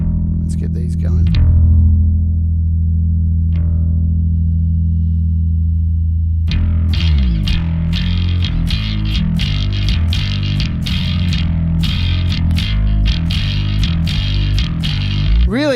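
Electric bass played through a multi-band amp app on iOS with added gain and distortion on individual EQ bands, giving a thick, gritty sustained tone with plucked notes after a brief pause, loud and close.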